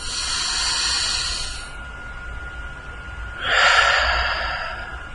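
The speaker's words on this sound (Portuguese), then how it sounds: "Toma uma respiração profunda agora." A deep breath drawn in during a talk, heard as a long airy inhale followed by a louder breathy exhale, close and alone with no voice.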